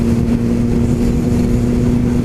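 A motorcycle engine holds steady at around 4,000 RPM while riding in fifth gear, giving a loud, continuous mid-pitched drone with a strong steady hum and rumbling low end throughout.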